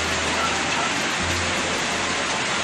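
Steady rain falls on Christmas Day, a dense, even hiss of drops on surfaces with a low rumble underneath, continuous and fairly close with no voices.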